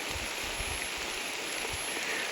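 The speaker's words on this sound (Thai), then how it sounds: "คือตอนนี้ฝนตกพี่น้องเอ้ยเนาะ" Rain falls in a rural hill-village setting of northern Thailand, a steady wash of fine patter and hiss with faint low rumbles underneath and no voices.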